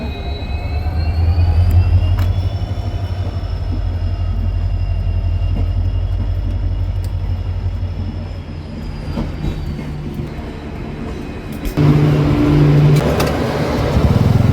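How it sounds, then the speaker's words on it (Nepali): A train rumbles steadily past a railway level crossing for a sustained stretch, with the deep rolling of the wagons and a faint high whine, then nearby road traffic grows louder. "रेलगेट लागिरहेछ, रेल आउनु आँटेको छ।"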